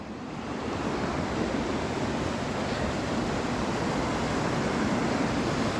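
Floodwater of the River Soar, running far above its normal level, rushing in a steady broadband roar with some wind noise on the microphone, continuous and loud throughout.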